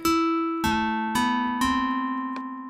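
Four bright struck notes from a synthesizer physical model ring out in succession, each with a sharp attack and long metallic decay, ending with a faint short tap.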